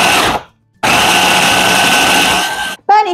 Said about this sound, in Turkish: Şimdi hepsini bir güzel doğrayıcıdan geçiriyorum.